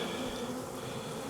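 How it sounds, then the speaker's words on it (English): Honey bees at an open hive during a queen-cell inspection make a dense, continuous close buzzing hum, steady and loud with no voices. "watch out bees"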